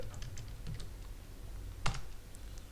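Someone types a short command-line instruction on a computer keyboard, a handful of light, close keystrokes ending with one firmer tap, with no speech.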